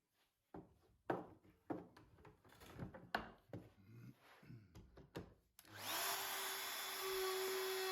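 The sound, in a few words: router cutting wood with box joint jig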